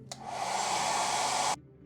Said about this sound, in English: after a battle with the hairdryer